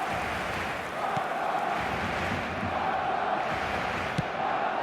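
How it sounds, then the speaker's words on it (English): Stadium crowd in the eFootball 2025 video game during Barcelona vs. Arsenal, a steady broad roar of many voices with swelling chants, a few faint thuds and a brief sharp hit near the end. "Certainly gave this crowd something to really cheer about."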